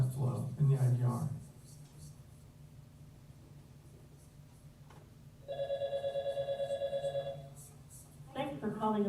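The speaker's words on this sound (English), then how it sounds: "Here's where I'm dialing into the sign up flow in the IVR." Ringback tone of a phone line dialing into an automated IVR system, a steady tone pulsing from about 5.5 to 7.5 seconds, with brief talk and soft background noise before and after.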